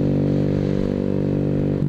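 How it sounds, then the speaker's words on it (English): A Honda Grom motorcycle with a loud exhaust drones steadily while riding, a constant low buzzing engine note with a slight shift near the end, close and loud. "my exhaust is pretty damn loud"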